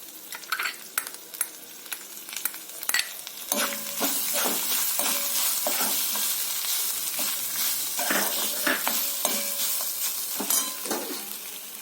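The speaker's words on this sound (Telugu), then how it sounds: "కొబ్బరి కూర వేస్తున్నాను." Grated coconut stir-fried in a pan for coconut rice, a constant close sizzle under brisk, irregular spatula scrapes and light taps against the pan.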